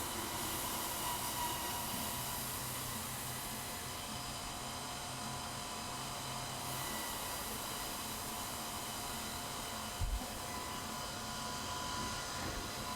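A steady, airy whoosh of a hair dryer runs continuously at low volume, with a faint thump near the end and no voices.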